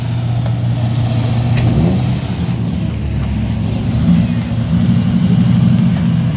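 A Triumph rally car engine revs and runs steadily at mid pitch, fairly loud and close, with a continuous drone and slight swells, no voices.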